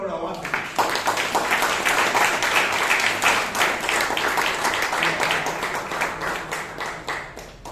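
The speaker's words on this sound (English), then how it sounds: "A big round of applause to Chiranth." A room full of people at a Toastmasters meeting applauding steadily for several seconds, dense clapping that tapers slightly toward the end.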